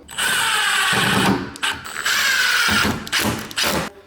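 Screws being driven back into a door hinge with a power drill, a ratcheting, whirring mechanical run close by with short pauses between bursts and no talk.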